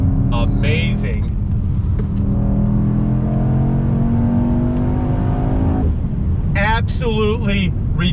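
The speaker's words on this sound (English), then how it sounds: "The pops, the bangs. This wagon is amazing." A 2021 Mercedes-AMG E63 S performance wagon revs hard, its engine note climbing steadily for several seconds before dropping off into sharp, crackling exhaust pops and bangs, all loud and close.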